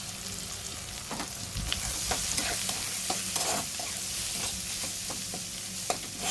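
Soaked soybean chunks hit a pan of frying onions and tomato, giving a steady, close sizzle with repeated scraping stirs throughout.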